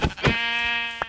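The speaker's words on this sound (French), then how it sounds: "Ah, il y a des moutons." Sheep from the video game Minecraft bleat in a pair of short calls followed by one long, wavering, steady-pitched bleat, loud and close, with no talking.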